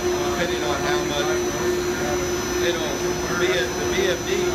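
A Travaini liquid ring vacuum pump on a variable-speed drive hums steadily with a strong, constant tone and broadband whoosh, running under intermittent talk.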